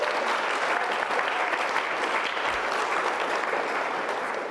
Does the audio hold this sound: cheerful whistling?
no